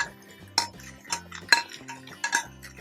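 A spoon works mashed potato into bonda batter in a bowl, giving irregular scraping and clinking strokes against the bowl, close and fairly soft, with low background music and no talking.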